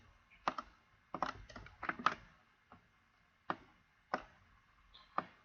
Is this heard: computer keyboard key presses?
yes